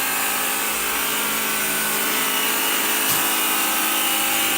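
Bissell AirRam cordless upright vacuum running steadily, a continuous loud motor whine and airflow hiss with no talk, holding even for several seconds.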